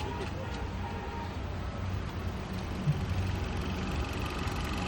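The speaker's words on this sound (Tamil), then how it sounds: "என்ஜின் ஓடிட்டு இருக்குது, உங்களுக்கு தெரியுங்களா?" A Hyundai i10 with a tight steering fault and an EPS warning idles with a steady low hum, while a voice talks faintly over it throughout.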